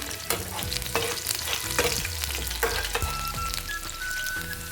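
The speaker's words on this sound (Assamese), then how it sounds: "যেহেতু গৰম হৈছে তেল তাতে আমি দি দিম পিয়াজ অলপমান ৰং মছলা হৈ গ'লে ইয়াত লৰাই থাকিম" Onions fry and sizzle in hot oil in a pan while a spatula stirs and scrapes them, a loud, steady crackling broken by repeated scraping strokes, close up and without talk.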